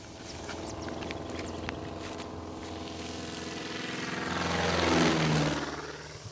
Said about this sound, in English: Milionda is quickly located by plane.